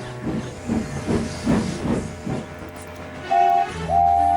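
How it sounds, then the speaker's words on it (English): A small steam engine shunts trucks, giving a rhythmic series of puffing hisses with a low chugging underneath, followed by two short, clear whistle toots near the end. "Oliver was shunting Scruffy into place"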